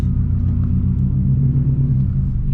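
A 2004 Subaru STI heard from inside while driving, its engine a loud, steady low rumble with a throbbing burble throughout.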